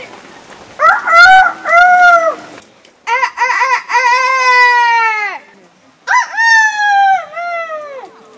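A voice imitates a rooster crowing in three loud, drawn-out cock-a-doodle-doo calls separated by short pauses.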